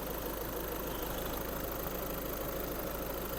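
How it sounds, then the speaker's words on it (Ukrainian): A 2010 Skoda Octavia A5 1.6 TDI diesel engine idles steadily and quietly, a constant even hum with no revving or pauses. "Мотор працює тихо рівно."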